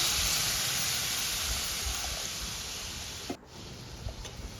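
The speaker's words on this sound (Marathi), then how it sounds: "आता याच्यामध्ये आपल्याला गरम उकळतं पाणी घालायचे" A broad steady hiss of boiling water poured onto roasted ragi millet that tapers and cuts off abruptly near the end, followed by a soft clink.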